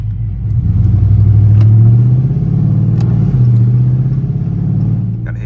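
A tuned Dodge Charger R/T with a 5.7L Hemi running on 93 and E85 accelerates with a loud, deep rumbling roar, the engine note rising and dipping between shifts, heard up close and alone.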